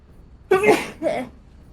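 A single sharp sneeze, close and sudden, in two quick bursts after a moment of near silence.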